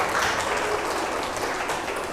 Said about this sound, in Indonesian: Tepuk tangan sekali lagi untuk adik kita Dian.